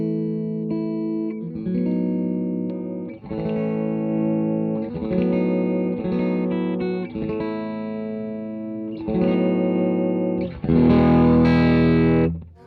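Electric guitar with a TV Jones Filtertron neck pickup played through a Two-Rock Sensor 35 watt amp on its clean channel, sustained chords with clear attacks, growing louder and grittier toward the end, heard alone.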